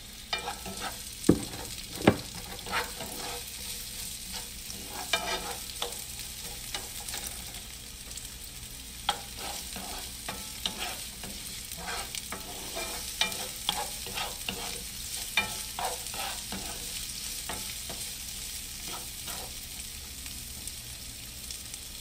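Onion sautéing in a pan with pork for patula with mushrooms, making a continuous close sizzle broken by stirring scrapes and a few sharp clinks of a utensil against the pan, with no talk.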